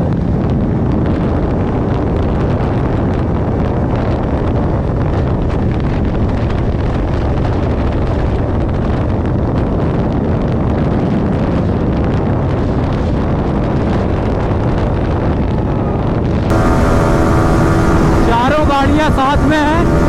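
Racing motorcycles including a Pulsar RS 200, Pulsar 220F, KTM RC200 and Yamaha R15M on a long race, heard as a loud continuous engine roar buried in heavy wind rush, with a sudden shift in tone near the end.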